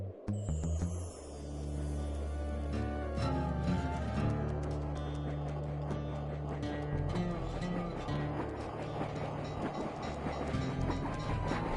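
A train in the video game Sly 2: Band of Thieves rumbles steadily with low mechanical drone and dense clattering over game music, continuous and loud throughout.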